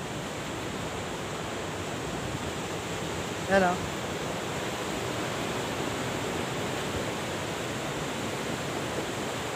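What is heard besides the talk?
flooded river rushing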